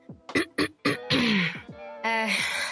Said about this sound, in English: I cough to get his attention.